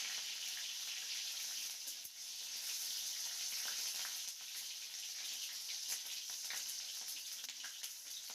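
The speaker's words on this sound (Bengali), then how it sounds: "এরপর একে একে অ্যাড করছি গ্রেট করে রাখা আদা ও চেরা কাঁচা লঙ্কা দিয়ে আমাদের কিন্তু কিছুক্ষণ একটু ফ্রাই করে নিতে হবে।" Grated ginger and slit green chilies frying in a pan give a steady, soft hiss and sizzle with small crackles, continuous throughout.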